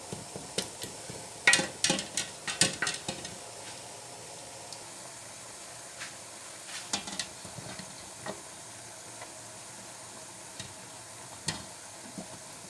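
Butter and chocolate melting together in a bowl over a bain-marie, with a spoon scraping and tapping against the bowl in clustered clicks early on, then sparse faint knocks over a low steady background.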